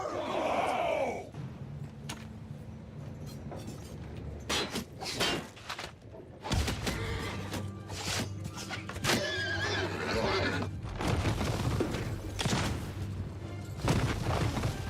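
A horse neighs in a video game battle in the Old Realms mod, amid Chaos artillery fire: a loud, high whinny opens, then gives way to booms, thuds and a busy battlefield clamour that continues throughout.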